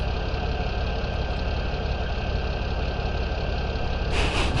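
Tractor engine idling in Farming Simulator 17, a dense, steady mechanical rumble with a constant drone, loud and unbroken, ending with a brief hissy burst; no talk.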